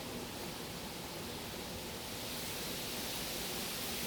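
Storm wind roars steadily through an outdoor okra garden, a dense, continuous rushing noise close to the microphone with no pauses and no voices.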